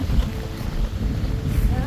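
Gusty wind buffeting the microphone in low rumbling bursts, with a faint voice briefly audible beneath it.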